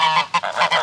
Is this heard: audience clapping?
no